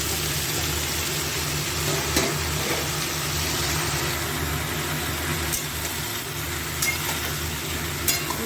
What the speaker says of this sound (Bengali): পেঁয়াজ রসুনটা এরকম ভাজা ভাজা হয়ে গেছে, এবার এর মধ্যে বয়েল করা কচুরলতিগুলো দিয়ে